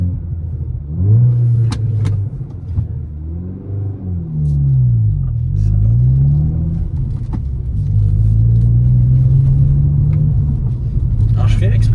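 A Hyundai i20 N drives over rough, steep dirt paths, its engine rumbling loudly up close as revs rise and fall, with a deep road rumble underneath and a voice talking over it.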